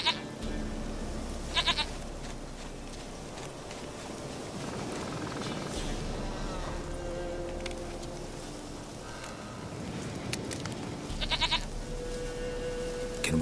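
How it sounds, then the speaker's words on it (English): A goat bleats twice in the video game The Witcher 3: Wild Hunt, well apart, over a steady ambient background hum, each bleat short and moderately loud. "Goat of mine, dearest, sweetest goat."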